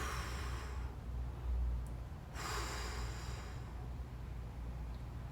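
A person takes two deep, audible breaths during a stick mobility stretch, each a broad airy rush of inhale and exhale close to the ear, separated by a quiet pause over a steady low background hum.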